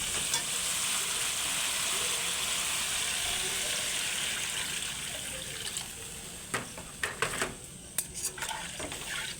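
Spice masala frying for a poppy seed fish head curry hisses and sizzles loudly as water goes into the pan, the bubbling easing off before a few sharp clinks of a utensil against the pan.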